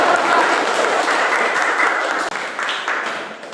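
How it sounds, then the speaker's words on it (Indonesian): Classroom applause as a student group finishes a presentation on global warming, many hands clapping loudly and steadily throughout, tapering slightly toward the end. "berikan tepuk tangan"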